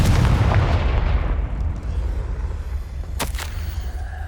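Confringo blasting spell explosion in the Hogwarts Legacy video game, a loud booming blast that decays over a second or two, followed by a sharp crack and a rumbling tail.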